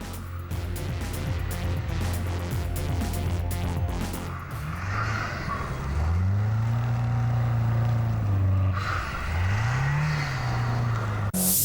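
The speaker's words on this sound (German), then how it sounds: "dreschen die neuen M-Boliden durch den Schnee" New BMW X5 M and X6 M performance SUVs, 625 horsepower, drive hard through snow, engines roaring and revving steadily with pitch rising and falling across the run, loud and close throughout with no talking.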